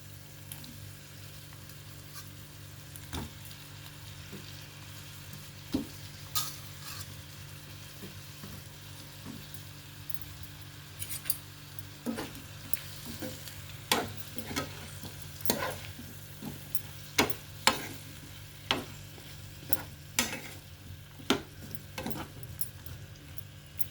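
Eggplant and sweet potato pieces for a tamarind vankaya pulusu fry in a pan with a soft, steady sizzle, broken by scattered sharp clicks and spoon scrapes that grow busier midway.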